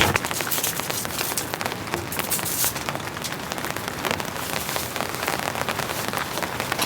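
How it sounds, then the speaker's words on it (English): Heavy rain pounding steadily on a tent while camping, a dense, loud, unbroken patter of drops close overhead with no pauses. "by no means has this rain ramped down. It's intensifying."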